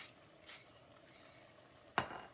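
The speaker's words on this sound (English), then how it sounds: "at this stage of the game, we are just going to stir" Gravy being stirred in a pot while cooking cream cheese gravy, a soft, continuous scraping swish with faint sizzling, ending in a sharp, close clink of the utensil against the pot.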